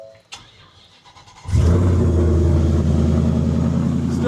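Supercharged Ford F-150 pickup truck cranks briefly, then fires up and settles into a loud, steady idle with a deep, rumbling exhaust, close by with no talking.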